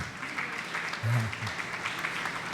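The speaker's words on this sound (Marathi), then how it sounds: "एकदा जोरदार टाळ्या." Applause at a community gathering, held to honour a guest, bursts in as a short, dense clatter of many hands over steady room noise, lasting a couple of seconds.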